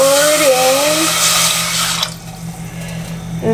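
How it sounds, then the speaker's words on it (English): Water poured steadily from a container into a cooking pot, a loud close splashing stream that runs for about two seconds, then fades to a quieter trickle over a low background hum. "And I pour this water in."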